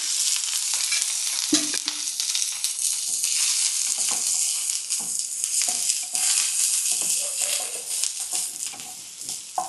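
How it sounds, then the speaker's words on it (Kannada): Onion frying in oil for Hyderabadi bagara baingan, a continuous close sizzle with stirring scrapes and small pops, no talk. "ಸ್ವಲ್ಪ ಎಣ್ಣೆ ಹಾಕಿ ಫ್ರೈ ಮಾಡಬೇಕು."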